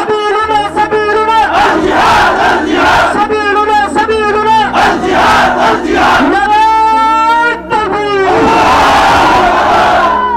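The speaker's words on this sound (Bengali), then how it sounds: "তাকবীর দাও, দাও জোরসে দাও" A large crowd at a Bangladeshi religious gathering loudly shouts the takbir chant in rhythmic, repeated call-and-response bursts, close and powerful, with voices surging together.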